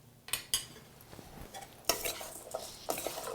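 A spoon stirs hemp seed hearts and onion in a bowl, making a few scraping clinks and soft shuffling sounds at close range, with no talking.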